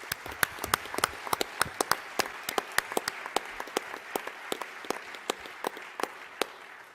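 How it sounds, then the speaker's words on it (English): Scattered audience applause for fire chiefs and a sheriff at a community meeting about wildfires, sharp individual claps from a modest crowd, irregular and fairly close, continuing steadily. "So they deserve a hell of a round of applause."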